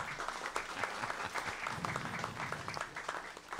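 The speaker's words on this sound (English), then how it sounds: "Give him a big hand of applause." Crowd applause at a jazz festival, a dense steady patter of many hands clapping from a sizable audience, fairly distant and even throughout.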